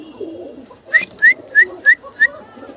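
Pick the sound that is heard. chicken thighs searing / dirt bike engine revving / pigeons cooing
pigeons cooing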